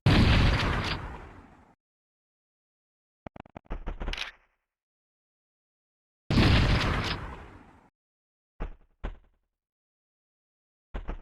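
Two loud shotgun blasts from a modded Super Mario 64, each a sharp broadband bang with a decaying tail, followed by short clattering pops like shell handling or impacts, spaced several seconds apart with silence between.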